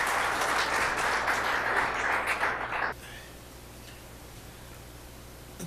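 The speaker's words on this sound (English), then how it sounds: "A round of applause for him." Delegates at a gambling regulators' conference in Johannesburg applaud the Gauteng Gambling Board chair, a dense round of clapping that stops abruptly after about three seconds, leaving quiet room tone.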